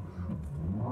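A 2018 Porsche Macan Sport Edition with a 2-liter turbocharged four-cylinder shared with the Audi Q5, driven in normal or sport mode, gives a brief, fairly muted engine rev that swells slightly within a second.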